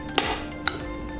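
Asparagus and orzo pasta salad stirred in a bowl, two sharp utensil clinks against the dish standing out over a low steady background, with no talking.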